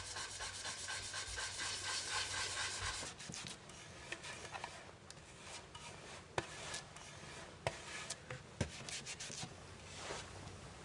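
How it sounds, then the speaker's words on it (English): Hand polishing of a lacquered maki-e box, a close, soft rhythmic rubbing and scraping that turns into lighter strokes with a few small taps and knocks. "This will be the final polishing before the surface coat of lacquer is applied."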